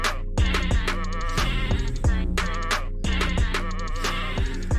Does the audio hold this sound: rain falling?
no